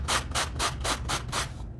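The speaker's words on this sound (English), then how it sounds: "If I do distressing lines on the back, I sand much, much lighter." Denim jeans sanded by hand to distress them, six quick, even rasping strokes in a steady rhythm, close and fairly loud, with no voices.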